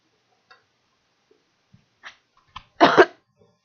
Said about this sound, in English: Sorry, try not to cough in the mic.